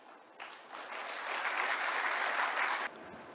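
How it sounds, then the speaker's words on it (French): Sustained audience applause at an opening ceremony rises quickly, swells into a dense, loud ovation, then stops abruptly near the end. "Nous vous invitons à l'accueillir et à le saluer par des applaudissements nourris"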